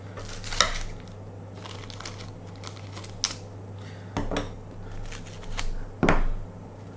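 Scissors cutting cellophane tape: several sharp crinkling snips and rustles at irregular intervals, close and moderately quiet over a low steady hum.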